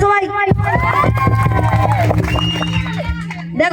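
A group of children in a coaching-centre classroom cheer and shout together for Teachers' Day, a loud, close burst of excited voices and whoops that fills most of the moment, with speech at the start and end.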